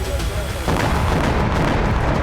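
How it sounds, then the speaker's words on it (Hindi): A loud, close blast of a mine dropped by a drone erupts suddenly in the Russia-Ukraine war, followed by a sustained roaring rumble and crackling debris noise. "ये बारूदी सुरंग की तरह ही धमाका करते हैं।"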